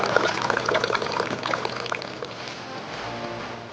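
Water is poured from a height into plastic bags meant for Discus fish, a continuous splashing, bubbling gush that is loud at first and then eases into a softer trickle.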